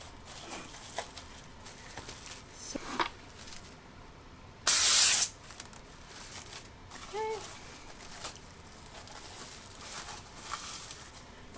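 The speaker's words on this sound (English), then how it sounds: "Now I'm going to take the cooking spray and just kind of spray a little on there" A single short, sharp burst of aerosol cooking spray hisses onto a pan, standing out against quiet room noise and faint clatter.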